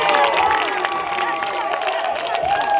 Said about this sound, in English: ladies and gentlemen, the crowd, you hear the crowd cheering